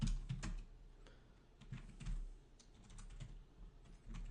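Someone types a router command on a computer keyboard, producing soft, close keystroke clicks in uneven short bursts, quiet throughout and without speech.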